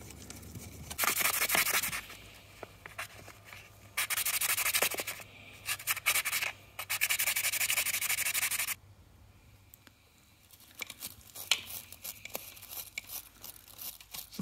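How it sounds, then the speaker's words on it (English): A wire brush scrubs the aluminium earth point on cylinder two of a Ducati 999S, in several loud bursts of harsh, scratchy rubbing separated by short pauses, with quieter intermittent scraping toward the end. "So I'm just going to clean this off with my wire brush."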